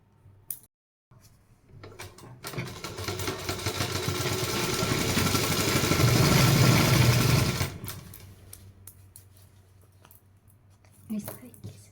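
Domestic sewing machine running a continuous stitch along a salwar hem laid over buckram, building to a steady loud whir for several seconds before stopping, with a brief quieter mechanical sound at the start and end.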